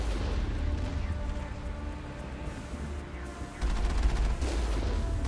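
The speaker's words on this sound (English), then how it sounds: "I knocked him over with the machine gun" Sustained machine gun fire in the Mass Effect battle on Virmire, a dense rattling barrage against the Geth with heavy low rumble, intensifying into a louder burst of rapid shots near the end.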